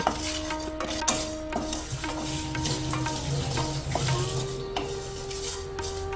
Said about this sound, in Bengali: এগুলোকে আমি এখন শুকনো খোলায় ভাজবো, আর যাতে ভাজাটা সমানভাবে ভালো করে হয় তার জন্য একটু নুন দিয়ে দেব।